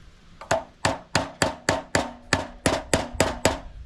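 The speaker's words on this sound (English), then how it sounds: "You can't drive a nail like this." A hammer drives a nail steadily, about ten sharp, evenly spaced blows ringing out close by with no talking.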